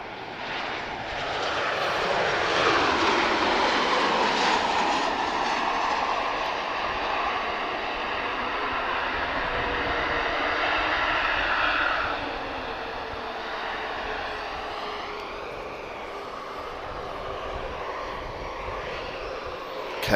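A Transavia airliner lands at Lisbon Airport with a steady, loud jet engine roar that swells and holds, then thins into a softer whine as it rolls on, continuous and without talk.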